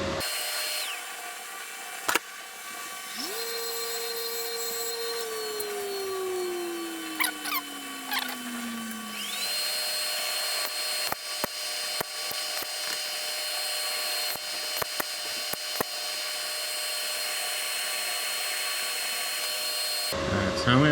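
A bench grinder sharpens a TIG welding tungsten tip, first spinning with a whine that rises then glides downward, followed by repeated short grinding contacts over a steady motor drone.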